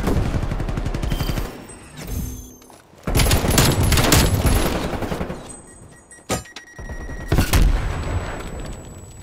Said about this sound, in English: I got another artillery.